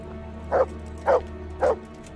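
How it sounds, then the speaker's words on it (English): Dog barking in the video game Kingdom Come: Deliverance, three evenly spaced barks at a moderate distance over a low steady hum, with no talking. "Come on, doggy."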